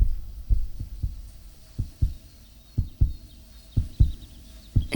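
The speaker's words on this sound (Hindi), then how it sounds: "इतनी आवाजों के बीच मुझे एक आवाज डिस्टर्ब कर रही है, वो है उसके दिल की धड़कनें।" Film heartbeat effect from an Indian action movie scene: deep, muffled double thumps repeat steadily at close range, about a dozen beats over soft ambient hum with no speech.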